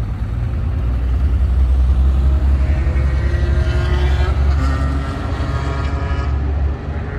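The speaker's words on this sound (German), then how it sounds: "Ja, und die Autos sind aus der Box raus." Loud, steady engine roar of race cars pulling out of the pits at a Spa-Francorchamps track day, a continuous low rumble with rising and falling engine tones.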